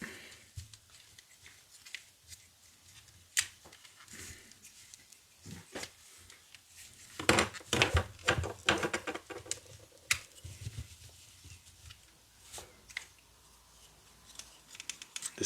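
A plastic Transformers Legacy Galvatron toy is handled and its sections folded, producing sparse clicks, snaps and ratcheting clacks of plastic parts, with a busier cluster of clicks midway, all close up.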